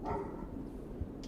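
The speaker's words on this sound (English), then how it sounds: "it sounds like that damn dog Stormwell is alive and well" A dog named Stormwell barks in a game scene: a faint, short bark under a steady low background hum, with no talk.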